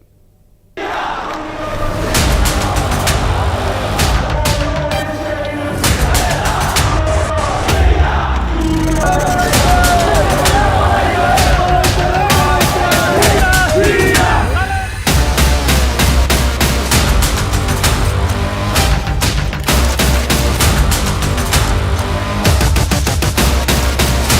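Frenzied mob in Bangladesh unrest, a dense roar of many voices shouting together, loud and continuous after a brief quiet opening, with sharp bangs or cracks scattered through the din.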